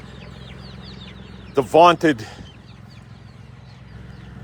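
Chickens cluck softly and steadily inside a chicken tractor outdoors, a low continuous murmur of the flock, while someone speaks briefly over it.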